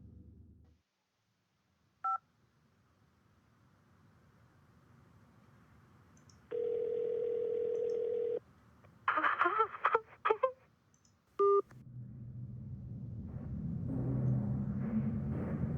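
A phone in The Elevator Game dials out: a lone tone blip, a long steady beep, then a rapid cluster of keypad tones and another beep, with faint murmuring noise swelling near the end.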